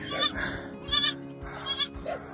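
Close goat bleats sound beside her newborn twin kids, several short wavering cries in quick succession with brief pauses, bright and nasal, alone without talk.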